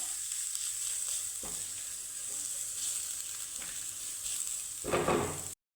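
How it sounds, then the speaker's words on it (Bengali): Potatoes and cabbage fry with Maggi masala in a pan. A steady sizzle runs throughout, with a few louder scraping stirs, the strongest near the end, and no talking. "এক প্যাকেট ম্যাগি মশলা তো একটু হালকা নাড়িয়ে চাড়িয়ে নিব"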